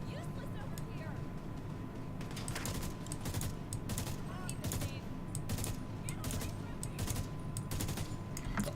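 Video game gunfire in The Division 2 sounds as a string of quiet, sharp shot bursts, some in rapid clusters, spread over a low steady background hum.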